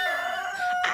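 A hen gives a short, loud, strained squawking call close by, lasting about a second.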